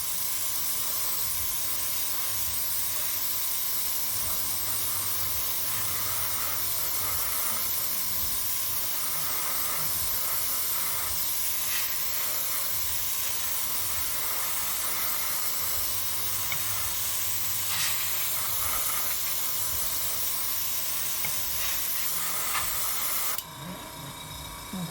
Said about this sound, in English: I'm spraying this at about 15 psi.